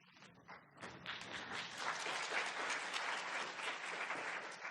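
An audience breaks into applause after a talk on family-centered care, a few scattered claps quickly building into steady, dense clapping from many hands that holds through to the end.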